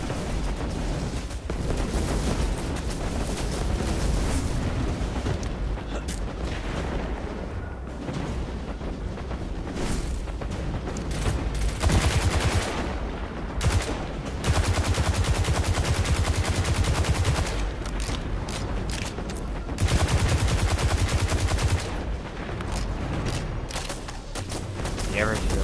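Rapid gunfire from a Destiny 2 match fills the stretch, with bursts of shots and booming impacts continuing almost without pause under a player's voice.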